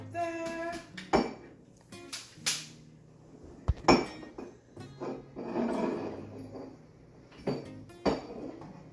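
A cup is set down with a clink in a kitchen among other brief knocks and clatters of dishes, cupboard and utensils, a few sharp close hits spaced across quiet gaps.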